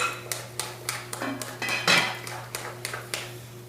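Crockpot cookie dough being mixed in a pot, a utensil knocking and scraping against the sides in a steady run of sharp clinks and clatters, close and fairly loud over a low steady hum.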